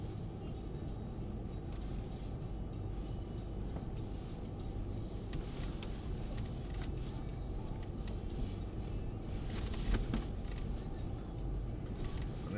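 A Mercedes 4x4 crawls slowly across an off-road driving course, its engine giving a low, steady rumble at idle-like revs with faint creaks and knocks over the whole stretch, and people talk quietly in the background.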